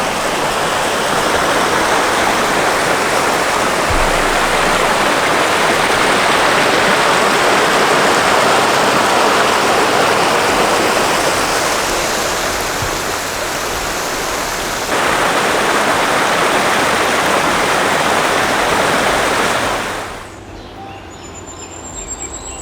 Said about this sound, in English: The water, yes, that's a stream.